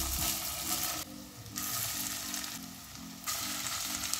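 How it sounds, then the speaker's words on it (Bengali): A pan of egg, potato and fish pieces fries over low gas flame, a close, steady sizzle that swells and briefly dips in rhythmic pulses as the batch is stirred. "এবার পরের স্টেপে সেম একই পদ্ধতিতেও কিন্তু আমি ভেজে নেব"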